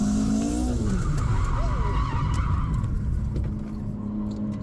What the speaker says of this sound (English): I spun out on a patch of water